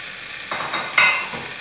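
Spoon stirring tomato and a small piece of bell pepper frying in a pan with chicken feet, soft scraping and sizzling in two brief close strokes.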